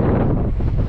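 Strong wind buffets the microphone in a loud, continuous low roar for a brief moment, with no voices.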